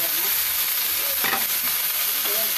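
Ground pork for adobong sitaw sizzles steadily in a hot pan, with a few scraping stirs of a utensil over the constant loud frying hiss.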